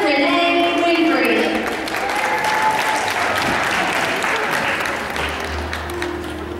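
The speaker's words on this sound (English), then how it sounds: "Big round of applause for contestant number four, Leia Renee Winfrey." Audience applause for a child contestant in a little miss beauty pageant, a loud, dense wash of clapping from a large crowd that stays steady throughout and thins slightly toward the end.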